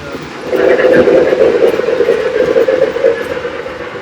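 A steady model train engine hum with a rumbling, whirring drone that swells up and holds, close and fairly loud, with faint clicking rail noise.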